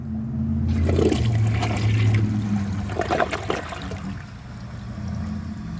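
A 2009 Gerber Avalanche toilet flushes a washcloth down, starting with a loud rushing surge of water that swirls and gurgles, then settles into a quieter trickle as the bowl refills. Heard up close with no talk.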